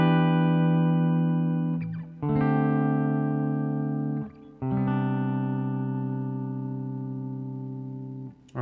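Sustained chords ring out from an Aria Pro II PE-F80 electric guitar on the bridge pickup with coils in series, four long strums each left to ring and decay, clean and close with no talking.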